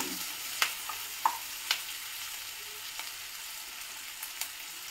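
Green capsicum sautés in a pan with a soft, steady sizzle, broken by a few sharp clicks and scrapes of stirring, no voices over it.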